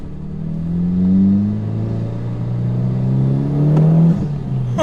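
A 2011 Mitsubishi Evo X GSR engine revs up as the car accelerates to about 4,000 RPM, a loud, rising turbocharged drone climbing steadily with a brief lift before pulling again, no voices over it.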